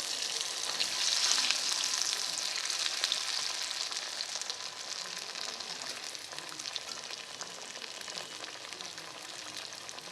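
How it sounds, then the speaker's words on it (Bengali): Pea-stuffed kachori puris deep frying one by one in hot white oil in a kadai, a soft continuous bubbling hiss, fairly quiet and steady, with no talking. "এবার এক এক করে পুরিগুলো ভেজে নেব।"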